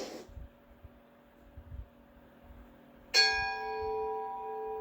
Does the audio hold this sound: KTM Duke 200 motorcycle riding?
no